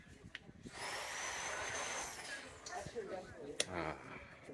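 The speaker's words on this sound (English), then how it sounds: "It's been a day or so since I'd heard any hammer drilling." A hammer drill runs nearby on a street in Portugal, a steady whining, grinding drone lasting a couple of seconds, heard from a moderate distance amid ambient noise and clatter.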